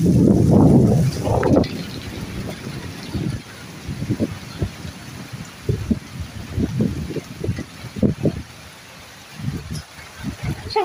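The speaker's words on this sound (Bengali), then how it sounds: "বাতাস উঠে আসছে।" Wind rising during an outdoor rainstorm, heavy low gusts buffeting the microphone in uneven bursts over a constant broadband hiss of rain.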